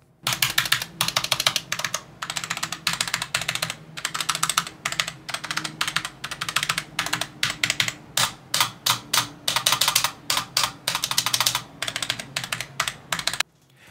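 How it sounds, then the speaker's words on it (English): Cooler Master keyboard typed on steadily, with dense, rapid key presses in bursts and brief pauses, close and fairly loud, with a soft, mushy character and a weak spacebar stabilizer, no talking. "One thing I'm not a big fan of is the sound that the keys make when pressing."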